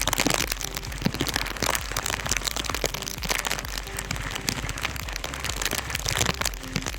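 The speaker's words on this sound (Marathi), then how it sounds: "धुवाधार पाऊस पडतोय पूर्ण कोकणामध्ये." Heavy monsoon downpour across the Konkan countryside during a motorbike ride from Mahad to Mandangad, a dense, steady roar of rain and spray that stays loud throughout with no voices.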